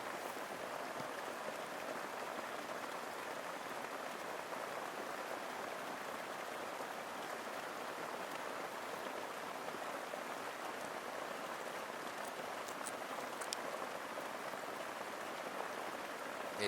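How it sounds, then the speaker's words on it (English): Heavy jungle rain pours steadily onto a shelter, a dense, constant hiss and patter that runs unbroken throughout without any talking. "It's absolutely pouring down."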